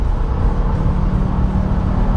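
A Subaru WRX STI with a 300-horsepower boxer engine and four-wheel drive is heard from inside as a steady, loud, low engine drone and road rumble, with no voices.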